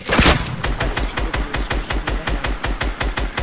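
Loud, close gunfire in a video game: an opening blast, then a rapid, evenly spaced stream of shots, about six per second, running steadily without any talk.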